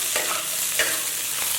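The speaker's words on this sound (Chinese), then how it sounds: "随后倒入青线椒段炒制。" Pieces of green chili pepper stir-fry in a wok with oil and minced garlic, giving a steady sizzle broken by a few scraping strokes of the spatula.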